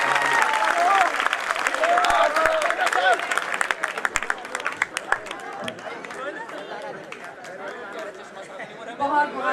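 Audience at a Hindi poetry recital (kavi sammelan) applauding, a dense crowd clapping mixed with cheers and chatter, loud and sustained throughout before slowly thinning toward the end.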